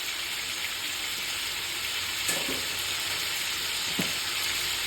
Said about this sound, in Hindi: अब हम इसमें लहसुन अदरक का पेस्ट ऐड करेंगे।